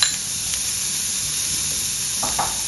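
Chopped shallots fry in a pan with a steady, close hiss of sizzling oil, punctuated near the end by a few soft stirring scrapes.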